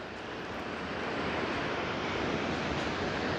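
Strong coastal wind buffets the microphone at Point Cartwright, Australia, a steady broadband roar that builds slightly and holds loud and close for a few seconds, with no voice.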